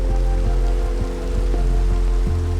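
Rain falls in the video game Minecraft at night as a soft, constant hiss over a low hum, with faint repeated taps and no talking.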